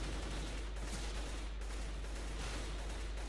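Dense, continuous automatic gunfire from CS:GO, apparently an M4 rifle in a 2v2 match, running steadily and loud throughout with no pauses or talk.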